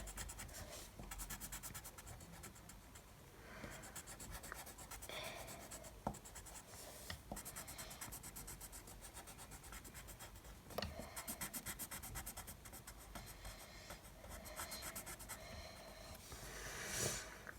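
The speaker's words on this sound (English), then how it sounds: "use the dark brown colouring pencil" Dark brown colouring pencil scratching across paper in steady back-and-forth strokes, a close, soft rasp that continues for the whole stretch with brief pauses and small taps as the pencil shifts.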